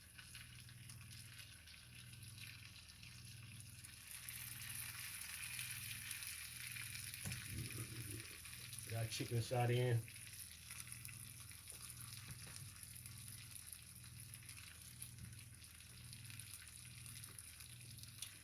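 Raw chicken pieces sizzle as they are set by hand into a hot pan for chicken and rice, a steady soft hiss that swells slightly midway, with someone talking briefly.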